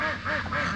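A duck quacks loudly and close, a quick run of two or three nasal calls with no other sound around them.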